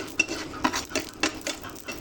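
Chili peppers frying in oil in a pan, with repeated stirring scrapes and light utensil clatter about every half second over a faint, steady sizzle.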